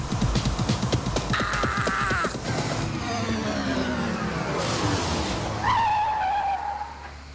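A Formula One V6 turbo race car accelerates hard, its engine note rising in rapid pulsing bursts with tire squeal and a whooshing surge of boost, loud and close, then sweeping past as a falling whine.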